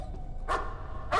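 Puppy giving two short, sharp yaps about half a second apart, fairly close and clear over a faint background hum.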